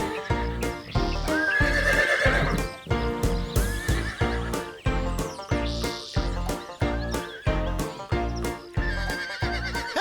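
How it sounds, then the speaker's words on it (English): A horse on a farm moves at speed with rhythmic hoof clip-clops under loud neighs and whinnies, regular beats repeating across the whole stretch at close range. "the name for a horse's fastest speed, a gallop."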